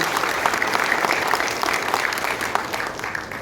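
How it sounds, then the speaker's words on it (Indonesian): Audience applause for Pak Arsyad Rashid at a labor gathering, a dense, steady wash of many hands clapping close and loud for the full stretch, with no break. "Beri aplaus yang mulia buat Pak Arsyad Rashid."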